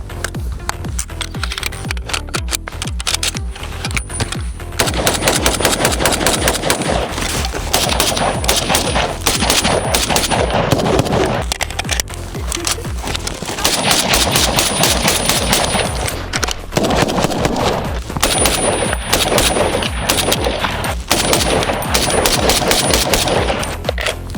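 Full-automatic gunfire from an M14 EBR, a rebuilt 7.62×51 mm battle rifle, crackles in loud rapid bursts that run almost continuously for over twenty seconds.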